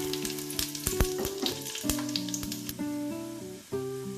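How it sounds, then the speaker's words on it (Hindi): Whole garam masala spices hitting half a cup of hot oil in a pan for matar pulao, a loud crackling sizzle with sharp pops and a few metallic clinks, no talk. "यहाँ एक पैन में मैंने हाफ कप ऑयल गरम किया है और इसमें मैं डालूंगी खड़े गरम मसाले।"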